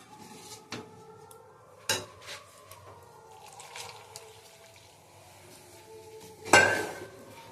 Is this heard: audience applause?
no